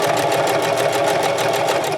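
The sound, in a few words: sewing machine stitching a scrub cap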